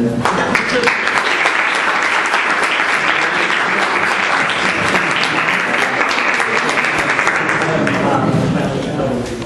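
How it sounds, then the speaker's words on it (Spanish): A lecture-hall audience at a public university event bursts into sustained applause for a philosophy professor and university rector, dense clapping filling the room steadily for the whole stretch. "un aplauso para él"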